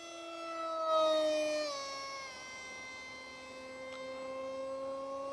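An RC Timer 2216/6 2200 Kv motor spins on an RCP F18 V3 model jet, giving a steady tonal whine rich in harmonics whose pitch steps down and then holds at a lower, even drone.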